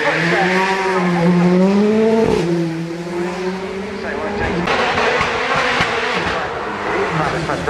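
A British touring car at the Goodwood Festival of Speed roars past with a loud engine note that rises and then falls away, carrying through steady broad track noise and crowd ambience.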